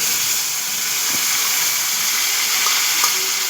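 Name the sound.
sauce added to a frying pan of pineapple chicken, sizzling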